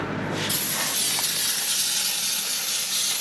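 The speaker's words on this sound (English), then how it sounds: "You just spray that brake cleaner and start all over." Brake cleaner sprays from an aerosol can onto small gun parts, a loud, close, continuous hiss that starts abruptly and holds steady.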